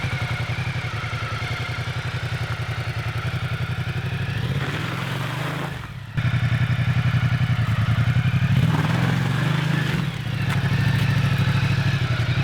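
Motorcycle idling steadily, then a sharp clutch release with the bike leaned over makes the rear wheel break traction in a spin turn; the engine surges and drops twice at low revs, close and loud with a brief thump between.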